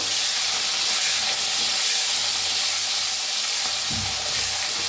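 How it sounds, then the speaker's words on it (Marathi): Green chillies frying in a pan for soya rice, a steady loud sizzle and hiss filling the whole stretch without pause, no voices. "आता त्याच्यात टाकायच्या हिरव्या मिरच्या, भाजून घेऊया."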